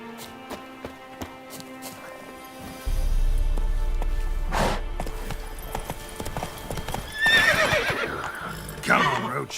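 Roach the horse in The Witcher 3 neighs and whinnies loudly over a rolling clip-clop of hooves that starts a few seconds in, with spoken voices mixed in under the game sound.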